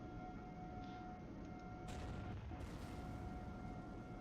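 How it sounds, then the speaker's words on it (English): A Naglfar Despoiler-class battleship cannon explosion in a video game lands as a single quiet boom with a short rumbling tail midway through, set against a low background hum. "That is a 60-meter explosion."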